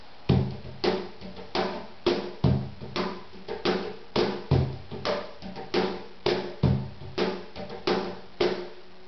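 A cajon plays a brisk repeating pattern of deep bass thumps and sharp slaps, with quick rolled grace notes filling gaps between the main strokes.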